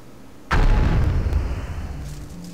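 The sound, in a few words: Dark Bomb explosion in video game Jak and Daxter II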